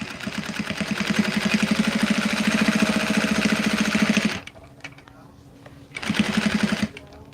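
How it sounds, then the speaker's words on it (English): A sewing machine stitching down fabric for a quick baby gift, with stitch length set to 3.0, runs in a steady, rapid whir for about four seconds, stops, then gives one short close burst. "All right, so I am going to stitch this down."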